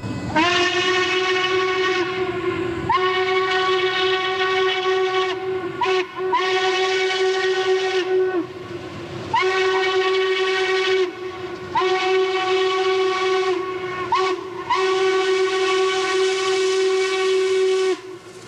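A Norfolk & Western No. 1218 steam locomotive whistle sounds in several long, loud blasts separated by brief pauses, rich and harmonic, with no talking.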